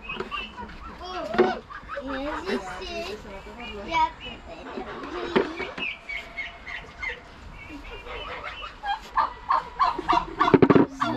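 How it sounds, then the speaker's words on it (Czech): Hens clucking and squawking close by on a Moravian farm, mixed with excited children's voices chattering over them. "Slepice jsou tady!"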